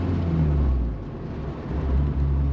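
Engine of a Honda S2000 being driven with a manual gearbox, shifting into fourth: a steady close low rumble and whir that dips briefly and then swells again, with no talk.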